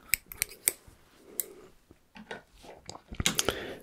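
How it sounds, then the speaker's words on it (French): Barber's scissors snip through hair in quiet, close, irregular bursts of crisp metallic clicks and soft crunches, with brief pauses between cuts in a hushed setting. "Que serait un coiffeur sans son ciseau?"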